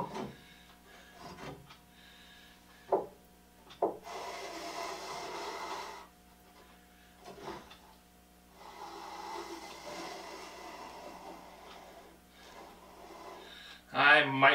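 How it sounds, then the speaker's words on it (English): Stanley No. 8 hand plane with a dull blade shaving soft pine, giving several long rasping strokes of a few seconds each, with short knocks and pauses between them, close and moderately loud. "Does a wonderful job planing off this pine."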